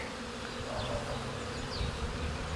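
Honey bees buzz at the entrance of a weak colony hive in spring as they carry pollen, a steady low drone with faint higher whines of single bees flying past close by.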